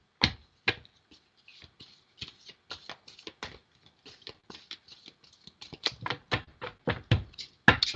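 Tarot cards being shuffled by hand, a close series of crisp riffles, taps and soft slaps in uneven bursts, with no talking.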